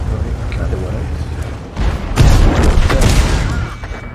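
A T-55A tank's main gun fires an HE shell in World of Tanks, a loud broadband boom near the middle followed by rumbling battle noise, with game sounds throughout and a voice talking over it.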